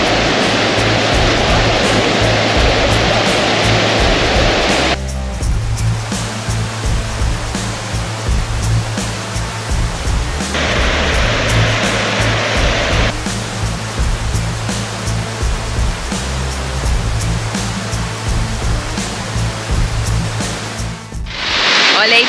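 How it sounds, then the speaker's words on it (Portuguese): Waterfall at Cachoeira da Palmeira in Arapoti, Paraná: a steady, loud roar of falling water that runs continuously throughout, shifting slightly in tone as the listener moves closer and away. "agora nós estamos aqui na Cachoeira da Palmeira"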